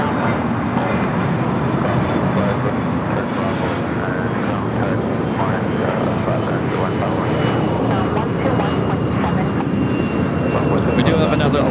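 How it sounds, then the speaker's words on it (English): A China Airlines Airbus A350 is pushed back at LAX, its engines giving a steady, loud broadband roar that fills the whole stretch with little change. "China Airlines, their A350 pushing it back."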